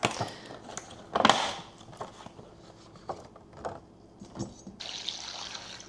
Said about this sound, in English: we're just gonna wash off these grapes.